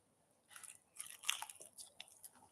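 Someone bites and chews a crunchy chicken wing coated in a hot sauce and butter mix, a string of close, quiet crunches and crackles over about two seconds.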